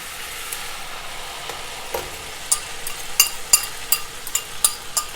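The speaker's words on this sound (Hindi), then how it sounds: "तो वो भी इसके अंदर फ्राई कर लेते हैं।" Beaten eggs seasoned with salt and black pepper fry in a pan, giving a steady, close sizzle with sharp crackles and pops that grow busier toward the end, with no voices.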